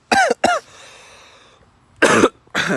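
Two pairs of sharp, harsh coughs, close and loud, separated by a quieter pause with a faint lingering tone.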